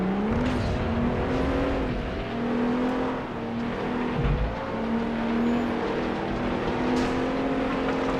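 A rear-wheel drive race car engine in the PS2 racing game FlatOut 2 drones steadily at near-constant pitch for several seconds, with slight rises and dips in revs and a low thump near the middle, no talking.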